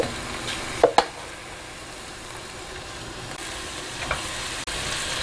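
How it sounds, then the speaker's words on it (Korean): Green onions stir-fry in oil in a pan while Korean yukgaejang soup is being made, giving a steady close sizzle with a couple of sharp clanks of the utensil against the pan near the start. "파를 넣고요. 아, 볶는구나."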